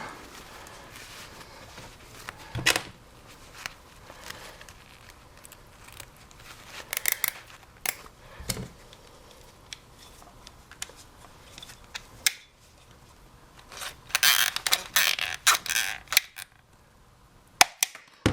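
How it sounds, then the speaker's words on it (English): A zip tie is cinched tight around a package of live worms being packed for shipping. Sharp ratcheting clicks come in short bursts, louder and faster near the end, with a few quieter handling rustles in between. "let's go ahead and put a zip tie on it"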